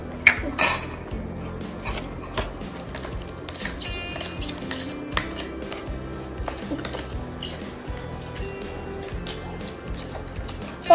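A spoon stirs salt into water in a cup, giving a steady run of small clinks and scrapes against the cup that carries on through the whole stretch at moderate loudness.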